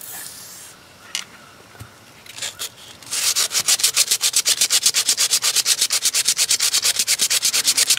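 Rusted steel liners inside an old pocket knife being scrubbed clean, starting with a few scattered scrapes, then a loud, steady, rapid back-and-forth brushing rhythm that continues close up to the end.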